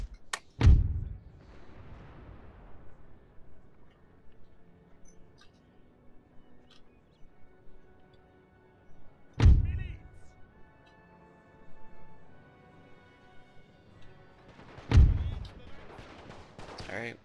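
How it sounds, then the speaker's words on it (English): Three widely spaced, loud booming shots ring out in a World War I strategy game, each with a long fading tail, over a quiet background. "Alright, we're shooting."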